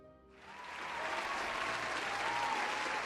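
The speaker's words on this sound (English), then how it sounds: "Let's give Nat a round of applause." A room full of people claps for someone who has just shared a homebrew Dungeons & Dragons creation, the applause swelling in over the first second and then holding steady and dense to the end.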